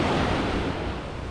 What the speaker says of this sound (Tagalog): medyo malakas din yung alon ah.